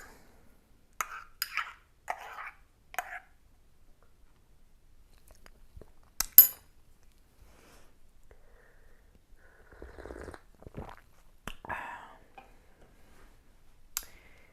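A spoon stirs freshly pulled espresso with thick crema in a small cup, giving a few light, scattered clinks and taps against the ceramic, separated by quiet pauses.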